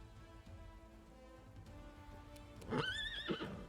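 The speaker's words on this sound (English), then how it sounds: "What do we got with this horse here?" A horse in the fantasy role-playing game Pathfinder: Wrath of the Righteous lets out a loud, rising and falling whinny near the end, over a steady background hiss like rainfall.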